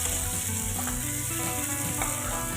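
Onions fry in a pan for a pumpkin stir-fry, giving a loud, dense, continuous sizzle with faint stirring clicks throughout.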